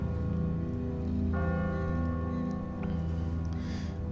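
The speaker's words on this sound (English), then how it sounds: "Da läutet eine Kirchenglocke" A church bell rings in The Walking Dead video game, a sustained tone entering partway through and carrying on against a dense, loud backdrop of low ambient noise.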